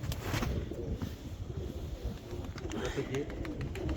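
A domestic pigeon of the Serpasti breed coos and flutters near the microphone, its low murmuring calls mixed with wind noise and nearby people talking.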